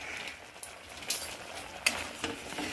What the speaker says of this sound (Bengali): এবার হালকা করে নেড়ে নিচ্ছি।